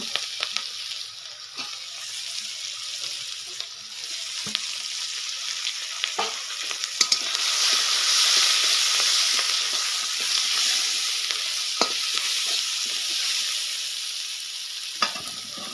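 Green chillies and chopped onion fry in a pan with a soft, steady sizzle and occasional sharp clicks of stirring, swelling slightly midway.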